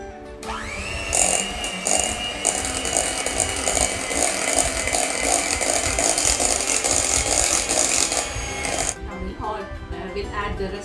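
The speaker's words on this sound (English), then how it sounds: "Now give it a whisk." Tiramisu cream mixture with cheese is whisked in a steady, loud mechanical whir that starts abruptly, runs about eight seconds without a break, then cuts off.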